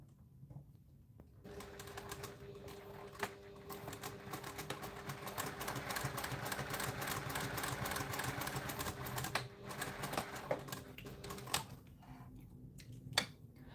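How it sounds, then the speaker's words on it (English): A sewing machine top stitches a flex frame sunglasses pouch, a fast continuous mechanical whir and rattle running for several seconds, with brief stops and faint handling clicks before and after. "what I'm going to do is to top stitch from the right side"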